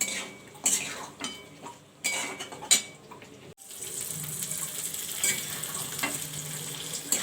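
Chicken and chopped capsicum are stirred in a pan with a metal spoon, giving clinks and scrapes over a soft steady sizzle, with a brief splash of tap water midway.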